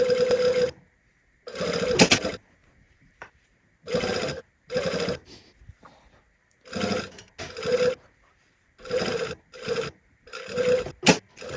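A sewing machine stitches bias tape onto a garment neckline in a series of short whirring bursts separated by brief pauses, close and clear, with no talking.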